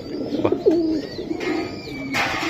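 A pigeon gives a few soft, low coos close by, warbling briefly over faint background noise.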